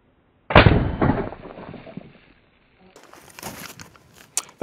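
A 12-gauge shotgun loaded with birdshot fires once at a snow-covered berm outdoors, a single loud close blast that fades over about a second, followed by faint shuffling and small handling noises.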